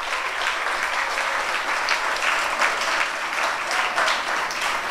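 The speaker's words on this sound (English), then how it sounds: "We'd like to have another lusty round of applause for all our awardees and recipients today." Crowd at a national scouts youth awards ceremony in a city hall gives award recipients a sustained round of applause, many hands clapping densely and evenly at a fairly close, full level.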